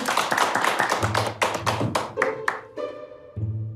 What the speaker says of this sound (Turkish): Ezgi'yi alkışlarla uğurluyorum.